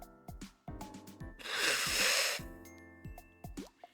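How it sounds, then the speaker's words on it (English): Someone blows their nose hard in one long, loud honking burst in the middle, with soft rustling and small clicks before and after, close to the microphone indoors. "this gives me time to blow my nose, as y'all can hear"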